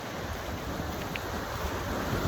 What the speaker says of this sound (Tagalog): Wow, sarap ng dagat dito.